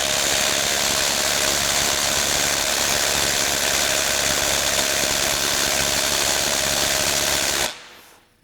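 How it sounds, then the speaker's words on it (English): Ryobi 18V ONE+ compact brushless 3/8-inch cordless impact wrench working on a car lug nut: a loud, continuous, buzzing hammering drone held for almost eight seconds, then cutting off abruptly. "Let's just let this guy impact and see if it'll remove this lug nut."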